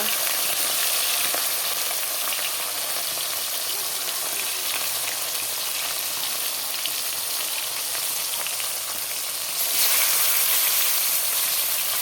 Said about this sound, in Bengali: মাছগুলো একটু ভেজে নেব